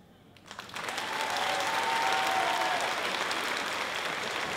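Theatre audience at a cabaret show breaking into applause, starting abruptly after a quiet moment and swelling into sustained, dense clapping that holds steady to the end.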